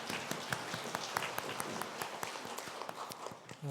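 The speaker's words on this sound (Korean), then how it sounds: "하나님께 영광의 박수 올려드립니다." Congregation applauding during a Sunday church service, a dense patter of many hands clapping at once, steady and fairly close for a few seconds before thinning out at the end.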